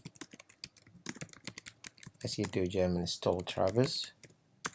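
Fingers type a terminal command on a Mac computer keyboard, a quick run of light, irregular key clicks heard close up, with someone speaking briefly over the later keystrokes.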